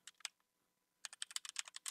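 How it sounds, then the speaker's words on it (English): Computer keyboard keys being pressed, including the delete key: two quick clicks, a pause, then a rapid run of about a dozen close, crisp taps. "I'm clicking delete."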